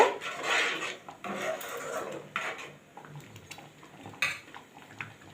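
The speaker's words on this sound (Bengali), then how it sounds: "আর দিয়ে দেব সামান্য চিনি দিয়ে ভালো মতো নাড়ব।" Malai kofta gravy with a little sugar is stirred in a pan, a spoon scraping and clinking against the metal in steady close strokes that fade toward the end.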